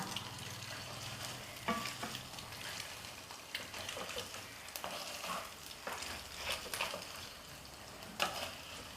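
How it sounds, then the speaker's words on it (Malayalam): An egg masala mixture is stirred in a pan, giving quiet, intermittent scraping strokes over a low, continuous frying sizzle. "ഇനി നമുക്ക് ഇതെല്ലാം കൂടെ മിക്സ് ചെയ്യാം"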